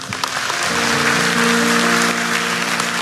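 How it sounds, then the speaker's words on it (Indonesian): A church congregation claps together in sustained, steady applause for about three seconds, with a few held tones ringing underneath. "kasih tepuk tangan untuk Tuhan Yesus."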